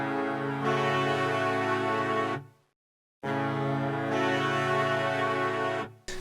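A synthesized trumpet chord loop without effects, brassy sustained chords played twice with a short silent gap between repeats, steady and alone.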